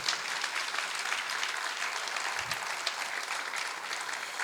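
A church congregation applauds during a Christmas sermon, steady dense clapping filling the room from start to finish without any speech.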